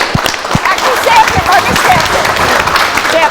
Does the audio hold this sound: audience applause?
yes